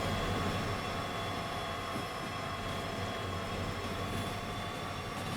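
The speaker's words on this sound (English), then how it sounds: "Now we just need to wait for a very long train to pass by here." In the Derail Valley train simulator, a very long train rolls past with a continuous heavy rumble of wagons and wheels, steady and close throughout with a faint high whine above.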